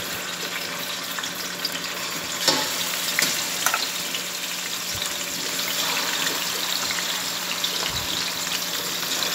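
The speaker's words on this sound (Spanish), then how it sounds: "Ya tengo por acá mi sartén para freír las piernitas de pollo." Chicken legs sizzle steadily in a frying pan, a soft continuous crackle with a few sharper pops, heard alone at low level.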